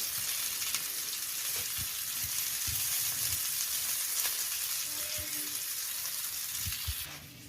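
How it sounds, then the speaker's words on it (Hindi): Chicken gola kababs fry in hot oil with a dense, steady sizzle, close and continuous, broken by a few soft utensil taps and stirs. No one speaks. "इसी साइज़ के आप कबाब बना के इन्हें फ्राई करते रहें जी"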